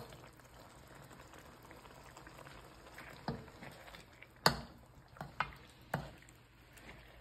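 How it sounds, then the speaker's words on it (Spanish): Chicken pieces go into a pot of frying sofrito for a chicken fricassee soup, landing as a few soft, separate plops and squishes over a quiet, low bubbling simmer, with no talking. "Vamos a ir colocando el pollo."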